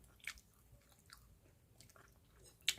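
Someone eats a meal of rice with green onion, with soft crunchy chewing and biting bursts, faint and close, including a sharp bite near the end and a quiet pause between.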